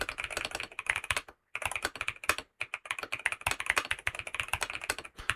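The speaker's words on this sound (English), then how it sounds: "I'm trying to type as fast as I can, so I'm not really correcting mistakes." Fast typing on the keyboard of a BYOK writing device, a dense run of crisp key clicks with two brief pauses, close and clear with no talk.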